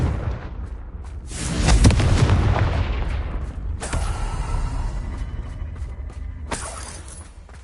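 A Confringo fire spell explodes in a Harry Potter game on PS4: a loud, rumbling blast with crackling debris that dies away, then two more bright bursts of crackle follow.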